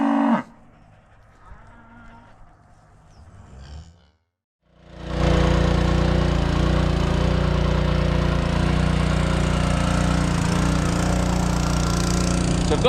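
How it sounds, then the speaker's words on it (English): A drain cleaner machine running on a cattle farm during Angus calf weaning, starting after a brief silence and then a loud, steady, droning mechanical roar that holds without break. "So I've got the drain cleaner working away."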